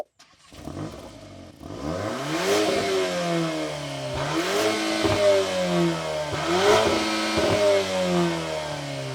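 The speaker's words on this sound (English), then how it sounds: "you've also got these quad exhaust tips, which sound pretty awful when you're stationary" A 2022 VW Golf R (Mark 8) engine revs hard three times while standing still, each rise swelling to a throaty roar from its quad exhaust tips before dropping back, loud and close.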